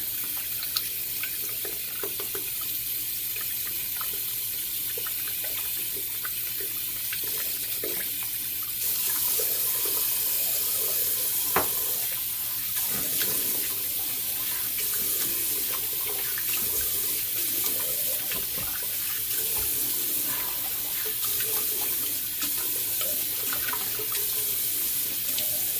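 Water runs steadily from a tap to rinse a shaving brush at a sink, a continuous hiss with small splashy changes as the brush moves under the stream, with no talking.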